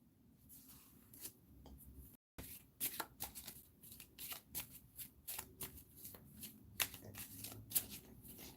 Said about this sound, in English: Just to show that it was shuffled, since 2 of the same cards came up in my first try.